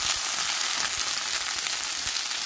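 Garlic and onions sautéing in a pan over lowered heat, a steady close sizzle and crackle of frying that continues evenly throughout with no talking.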